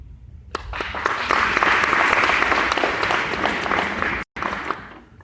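Audience applause at a youth summit in Owensboro, Kentucky, starting abruptly, then holding as dense, steady clapping from a full room for several seconds before breaking off and trailing away.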